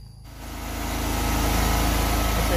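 A backup diesel generator set hums steadily in the engine room of a biofloc fish farm, a loud continuous rumble that swells over the first second and then holds alone.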